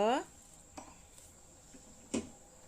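Boiled, cut potatoes are stirred in a cooking pot for aloo thukpa, giving a couple of scattered metallic scrapes and clinks of a utensil against the pot, with a brief voice at the start.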